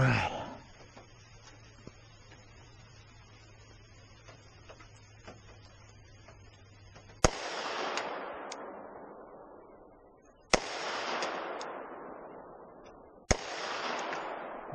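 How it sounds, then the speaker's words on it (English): A Glock 40 MOS 10mm pistol fires three sharp, loud shots a few seconds apart, each with a decaying echo, after a stretch of quiet background hum. "All right, 3 shots this time."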